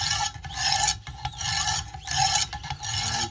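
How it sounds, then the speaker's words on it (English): A Wicked Edge WE130 sharpening stone rasps along a knife blade in repeated strokes, a steady back-and-forth grinding scrape with brief pauses between passes, close and moderately loud. "make sure you grind all the way along the edge and all the way down the blade"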